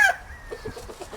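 A rooster among hens gives a rapid series of short clucks, about half a dozen close, moderately loud calls in an uneven rhythm after a brief higher squawk.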